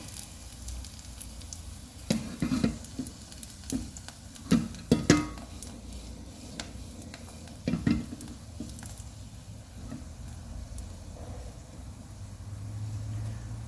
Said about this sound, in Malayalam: കടുകിടാം. ഒപ്പം തന്നെ മുളക് ഇട്ട് കൊടുക്കാം.